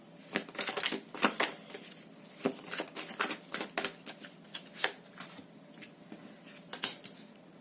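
Tarot and chakra cards are shuffled close up, a quiet run of irregular riffling and slapping bursts with no talk.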